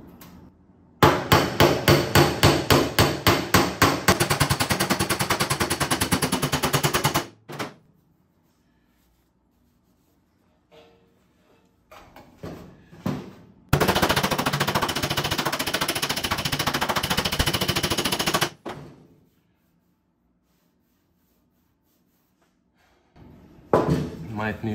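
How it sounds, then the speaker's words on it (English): Rapid metallic hammer blows on a 1966 Triumph GT6's body dent over a dolly in two long bursts, sharp and close, separated by quieter pauses with a voice speaking. "So let's try with the hammer. So I'm gonna put this dolly underneath"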